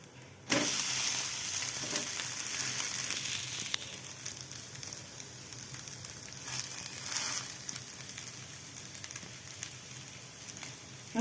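Fresh grated coconut dosa batter frying on a hot pan gives a steady, close sizzle that runs the whole time without a break, dropping slightly in level partway through, with no one talking.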